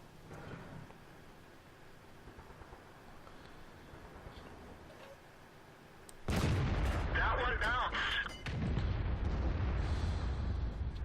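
Tank cannon fire in the World of Tanks video game, a loud sustained blast and rumble that starts abruptly partway through after a stretch of quieter background noise and game ambience.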